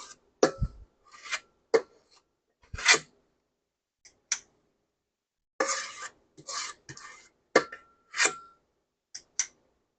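A utensil scrapes food along a dish while corned beef and cabbage is prepared, in a series of short, close rasping strokes separated by silent pauses.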